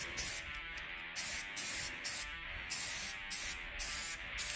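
Rust-Oleum spray paint hissing from an aerosol can onto a surfboard-style RC boat storage rack, in repeated short bursts with brief pauses, fairly close and steady.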